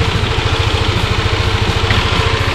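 A Yamaha Aerox S scooter engine with a 58mm piston kit idles steadily up close, with a fast, even putter and a rattly, buzzy casing noise.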